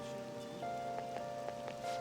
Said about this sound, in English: Kind of depressing, I heard the rain isn't it?